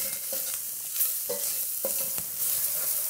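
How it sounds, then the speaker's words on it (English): Crushed garlic cloves and herbs stirred in a hot pan for tomato sauce, a steady sizzle broken by several scraping strokes of a utensil, close and moderately loud, with no voices. "This is just a couple cloves, roughly crushed up. Right in. A quick little stir."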